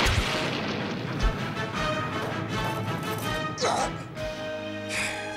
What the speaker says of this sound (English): Let's see how he likes my new shock blast cannon.